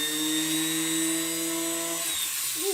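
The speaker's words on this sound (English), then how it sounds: "And I think my drill bit is dull." A power drill with a dull bit bores into a workpiece, a loud steady high-pitched whine holding for about two seconds before the tone drops and winds down.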